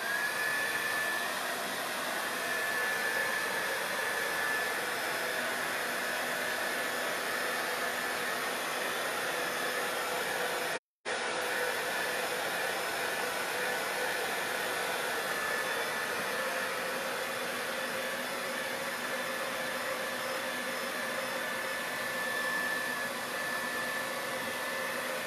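A hair dryer runs steadily, drying a third layer of painted stencil for a distressed harlequin finish, a constant close whoosh with one brief cutout partway through and no talk.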